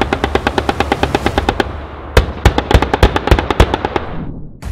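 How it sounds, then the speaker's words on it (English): Rapid bursts of gunfire and blasts on a modern battlefield where armored infantry fighting vehicles operate, loud and close, with a dense volley of sharp reports, a brief pause, then another irregular string of cracks. "Explosions rip through the battlefield"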